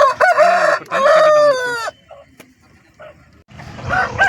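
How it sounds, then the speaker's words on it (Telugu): A rooster at the Pileru hen market crows loudly and close by in one long, strained call, followed by softer clucks and faint market noise. "మీరు చూస్తున్నారు కదా ఈ డాక్ పుంజు కూడా మన విజయ్ కుమార్ అన్నది"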